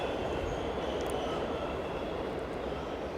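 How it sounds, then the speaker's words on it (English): A New York City subway train rumbles past in a steady, dense roar of wheels and motion that holds constant loudness throughout, with no talk. "This today is what the modern New York City subway looks like."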